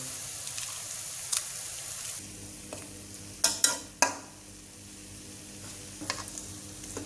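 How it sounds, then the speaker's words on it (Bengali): An iron spatula stirring olive pickle in a pan: soft scraping and sizzling, with three sharp metallic clanks close together midway, followed by quieter stirring. "আমি একটু খুন্তিটা একটু লোহার খুন্তি নিয়েছি তাহলে নেড়ে দিতে সুবিধা হবে"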